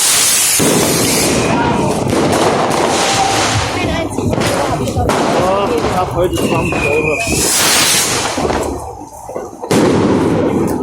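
New Year fireworks in Germany go off around a gathering, with sharp bangs and crackling bursts scattered through the clip, loud and close, while people talk over them in German and Vietnamese.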